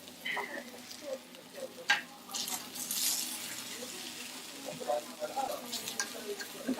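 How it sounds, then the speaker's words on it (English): Okonomiyaki sizzles on a hot griddle as a spatula cuts into it, with steady frying hiss, a few scraping clicks and a burst of louder spitting partway through; faint voices murmur nearby. "So I'm going to cut into the okonomiyaki"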